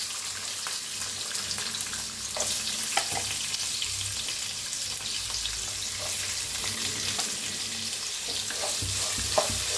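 Sliced onion frying in a pan with peanuts, dried chillies and curry leaves, a steady close hiss and sizzle with occasional stirring scrapes and small pops throughout.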